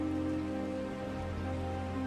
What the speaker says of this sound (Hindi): अरे बेटा, इतनी तेज बारिश में कहाँ जाओगे?